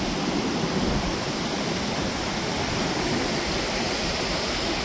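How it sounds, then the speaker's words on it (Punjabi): Small waterfalls merge into a rushing stream on the Hemkund Sahib trek route, making a loud, constant roar of water with no pauses. No voices are heard. "ਛੋਟੇ ਛੋਟੇ ਝਰਨੇ ਰਲ ਕੇ ਤੇ ਨਹਿਰ ਦਾ ਰੂਪ ਲਈ ਜਾਂਦੇ ਆ ਪਾਣੀ ਦੀ ਬਹੁਤ ਆਵਾਜ਼ ਆਉਂਦੀ"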